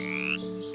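Frog croaking as a children's story sound effect, a single short, buzzy, drawn-out croak heard alone and fairly clear.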